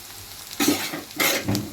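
Okra curry (bendakaya kura) being stirred and fried in a pan with chili powder, a steady low sizzle broken by several louder scraping stirs, close and with no voices.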